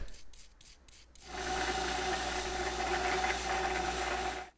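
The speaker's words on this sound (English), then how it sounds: "then you can use a wire wheel. Look at how nice this guy's cleaning up, just with a little bit of light bristling" A spinning wire wheel brushes carbon off a Briggs spark plug from a snowblower engine. A few short scraping strokes come first, then a steady, loud abrasive whir runs for about three seconds before cutting off.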